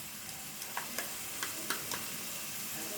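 Ginger, garlic and green chili paste with onion fries in hot oil, a continuous close sizzle broken by several light scraping taps of stirring.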